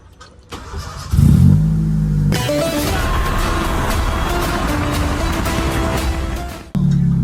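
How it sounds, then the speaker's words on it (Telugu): A car fitted with a custom banger-kit exhaust fires up with a loud catch, then holds a steady, aggressive rumbling idle and revs close by, cutting off briefly and restarting near the end. "సో గైస్ ఇప్పుడైతే కార్ అయితే ఆన్ చేసిండు"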